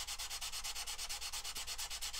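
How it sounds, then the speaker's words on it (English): Sanding a plastic 1/72 Airfix Avro Vulcan B.2 model kit wing, a close, steady back-and-forth rasp in quick even strokes, about eight per second, with no talking. "next stage of the sanding."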